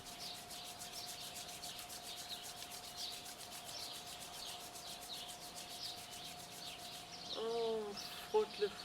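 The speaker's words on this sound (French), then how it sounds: "On frotte le front, on lisse, on glisse." Hands rub and smooth the skin of the forehead during a face massage, making a soft, steady, rhythmic swishing. A faint hum sits underneath, and a voice speaks briefly near the end.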